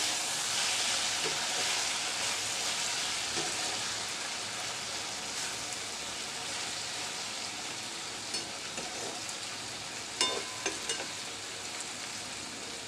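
Sweet pumpkin and bitter gourd frying in a pan with coriander leaves, giving a steady bright sizzle throughout, with occasional soft scrapes and taps of stirring near the end.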